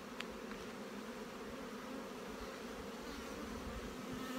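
Honey bees swarm around an open hive with a solid brood nest, producing a steady, dense buzzing drone that stays even and close throughout, with no voices.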